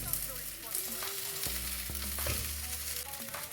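Eggplant frying in an open pan, a steady close sizzle with a few soft stirring clinks and scrapes, no talking.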